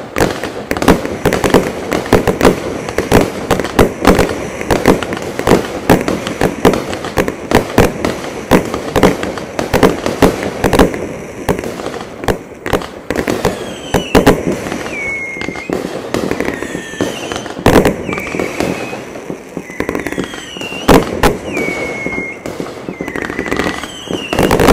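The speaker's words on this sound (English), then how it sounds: "Big Bang Beery is impeccably balanced with continuous spin of awesome flower crown to colorful dahlias" A Big Bang Beery fireworks cake fires a rapid, dense barrage of loud cracking shots, then continuous whistling squeals from spinning flower crown and dahlia effects, with booms and crackle running throughout.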